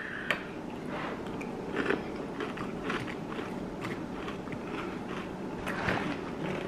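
Close chewing of Kashi Go Love chocolate crunch cereal, a quiet continuous run of crunchy bites and mastication with no talking.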